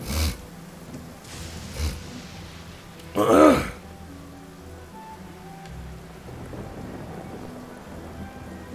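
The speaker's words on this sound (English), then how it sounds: "It's raining." Steady rain with rumbling thunder in the video game Genshin Impact: a continuous wash of rainfall, with a loud, rolling thunder burst near the middle and a few softer thumps earlier. No voices are heard.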